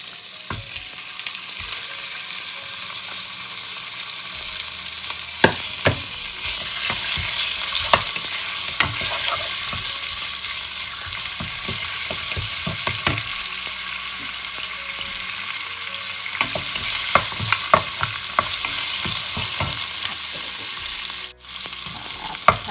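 Pork pieces and pork bones stir-frying in a pan for a Thai chap chai soup, with a steady close sizzle and frequent scraping and clacking of a spatula, and no talking.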